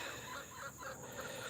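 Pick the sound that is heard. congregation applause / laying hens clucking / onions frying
laying hens clucking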